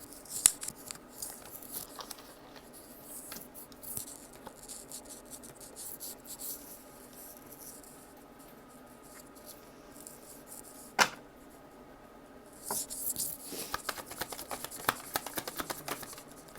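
Tarot cards being shuffled, soft scattered flicks and taps through most of the stretch, then a denser riffling burst near the end, faint and close with no talking.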